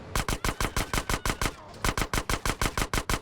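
An Uzi submachine gun fires in GTA San Andreas, two rapid bursts of evenly spaced sharp shots, loud and close, separated by a brief pause.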